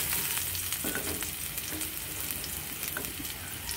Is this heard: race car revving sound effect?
no